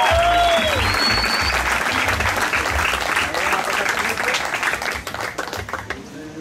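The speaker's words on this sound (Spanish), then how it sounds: "Un fuerte aplauso para el señor" A stand-up comedy audience gives loud applause for a comedian, dense clapping that starts strong and gradually thins out, with a voice briefly heard at the start.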